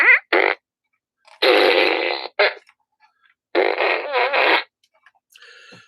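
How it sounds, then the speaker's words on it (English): Several loud fart gun sound effects burst out in quick succession, some short and some drawn out and wobbling, with gaps of quiet between them during a livestream. "you get the fart gun for the super chat"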